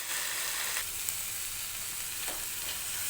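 Grated coconut with salt, turmeric and ground coriander-cumin is stirred in a pan. It gives a soft, continuous sizzle, broken by a few brief scraping strokes of the spoon. No one speaks.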